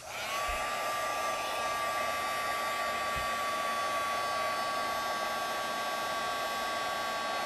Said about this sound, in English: Now I'm going to emboss this image using my heat tool.